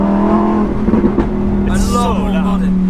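A Lamborghini Huracan EVO RWD Spyder on its stock exhaust drones at a steady engine note, then rises into a brief revving roar, with people talking over it close by.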